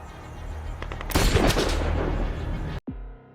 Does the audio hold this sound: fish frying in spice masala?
no